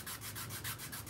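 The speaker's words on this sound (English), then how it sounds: "when I make these sanding sticks, flat surface right there" A homemade sanding stick made from a paint stick and sandpaper is rubbed back and forth in steady, even strokes on a small workpiece at a toy-making table. The scratchy sanding is close and continuous, and no one talks.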